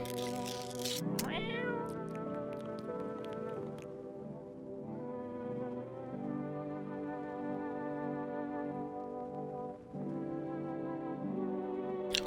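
A cat nearby lets out a long run of loud, sustained meows, some rising and stretched almost into a wail, with only brief pauses between calls.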